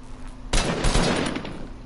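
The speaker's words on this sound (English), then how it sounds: "Oh, they're shooting. Somebody's shooting at us." Video game gunfire bursts in suddenly after a quiet moment, a loud close volley of rapid shots that rolls on for over a second.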